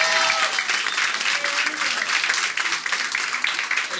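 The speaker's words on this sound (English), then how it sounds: "Let's give him a applause." A crowd at a Northeast Democratic Club political event applauds council member Ed Reyes, producing a dense, steady wash of clapping that holds at full strength for the whole stretch, with faint voices mixed into the noise.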